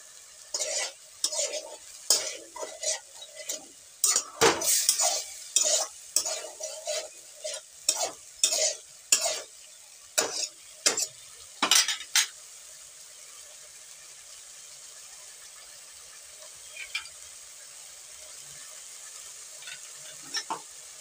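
Spice paste stir-fried in oil in a pan, rapid rhythmic scraping strokes over a soft sizzle, busy and close for about twelve seconds, then thinning to occasional scrapes.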